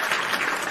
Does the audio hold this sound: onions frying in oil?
no